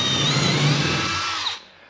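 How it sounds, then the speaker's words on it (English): A power drill boring countersink holes into southern yellow pine plywood wall sheathing, a loud steady whine held for about one and a half seconds before it spins down and stops. "All right, let's get these drilled."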